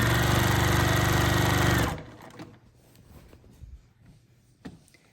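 A sewing machine stitches binding onto a Halloween-themed quilt in a steady, loud, close run for about two seconds, then stops abruptly, leaving faint handling noises and light taps from the quilt and machine.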